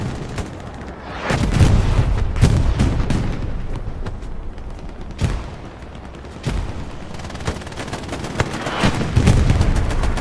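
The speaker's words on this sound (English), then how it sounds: "The 116th artillery decimates that spawn, that Syndicate spawn. Huge. Huge artillery." Artillery fire in the Hell Let Loose World War II shooter, heavy booming blasts and scattered gunfire recurring every second or two, some close and loud, others duller and more distant, over a constant rumbling battlefield backdrop.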